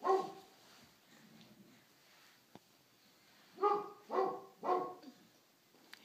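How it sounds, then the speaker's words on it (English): A puppy barks in a short run of three quick, sharp yaps near the end, after a quieter stretch with faint whimpering and a stray knock. "It's the puppy."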